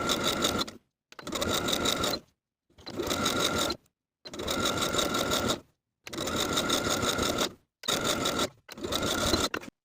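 A sewing machine hems the top layer of a flutter sleeve top, running in six loud, close bursts of steady rapid stitching separated by short silent pauses.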